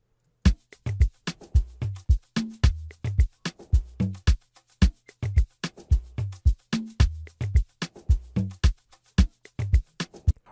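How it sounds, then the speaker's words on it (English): Amapiano drum groove built in FL Studio, with conga hits layered over a clap and low percussion: a steady, busy pattern of short, punchy strikes repeating in a tight loop, loud and close with no voices. "And then lastly, we added some other conga sounds that sounds like this."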